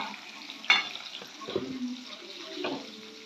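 Tilapia fries in hot oil with a soft, steady sizzle, broken by a sharp clink near the start and a few faint bubbling bursts, with some quiet voice in the background.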